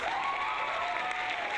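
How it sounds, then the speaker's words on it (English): A short burst of dense, steady clapping from a crowd, an even wash of applause lasting under two seconds with no talk over it. "So let's give you a round of applause."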